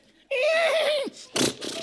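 Voice imitating a horse whinny as a comic insult on a comedy talk show: one long, loud, wavering neigh, then a short burst of audience laughter or noise.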